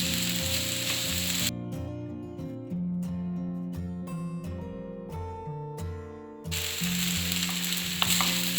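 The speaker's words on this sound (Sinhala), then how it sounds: "දැන් ගින්නර වැඩි කරගෙන මේ බත් ටික විනාඩියක් විතර පොඩ්ඩක් ෆ්‍රයි කරගන්න ඕනේ." Rice frying in a pan with bacon and egg, giving a steady close sizzle with clinking stirring and scraping sounds that interrupt it in bursts midway.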